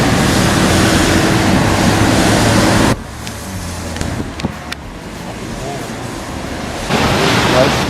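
Strong ocean surf at Laguna Beach, California roars loud and close with wind buffeting, then drops back and swells again near the end.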